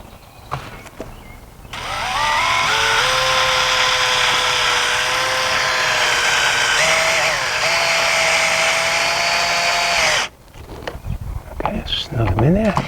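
A power drill drives screws while a Trex railing kit is installed, its whine steady and loud for about eight seconds with pitch shifts as each screw seats, then cutting off; brief speech and handling noise come before and after.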